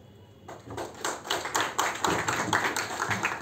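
A small group of people clap their hands during an indoor biomedical equipment training session, with steady, close, moderately loud applause running for about three seconds and no talk over it.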